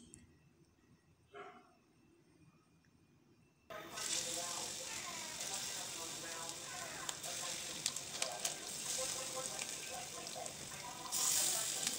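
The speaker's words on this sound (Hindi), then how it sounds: "जल्दी इनको फ्राई कर रही हूँ, क्योंकि अज़ान के भी वक्त हुआ जा रहा था" Chillies frying in a pan in a home kitchen, a steady close hiss and crackle of hot oil that starts abruptly after a few quiet seconds with a faint voice, then carries on alone.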